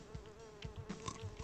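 Flies buzz steadily in a video game, a continuous droning hum with faint flutters and soft clicks layered over it, held at an even level throughout.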